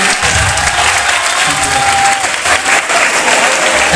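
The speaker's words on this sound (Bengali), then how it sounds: "রুদ্রের জন্য একটা হাততালি হবে, আয়ুষের জন্য একটা হাততালি হবে." Sustained applause from a crowd of school students, dense continuous clapping at steady strength filling the whole stretch, with a few faint voices mixed in.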